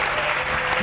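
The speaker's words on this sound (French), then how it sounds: "Acclamons très fort pour le" Brief burst of sustained applause from a church congregation, dense and steady clapping filling the room at close range, with no talk over it.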